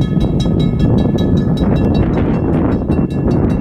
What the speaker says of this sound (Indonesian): Kereta api Thomas